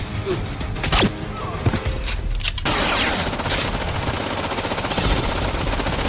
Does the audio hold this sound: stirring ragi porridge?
no